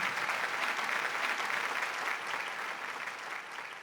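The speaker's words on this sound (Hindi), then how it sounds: "एक बार जोरदार तालियां राहत इंदौरी भाई के लिए" Loud, sustained applause from a mushaira audience in Dubai welcoming poet Rahat Indori to the stage, a dense steady wash of clapping that eases slightly toward the end.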